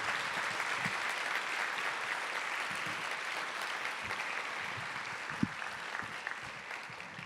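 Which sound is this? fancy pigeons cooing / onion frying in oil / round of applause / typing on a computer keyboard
round of applause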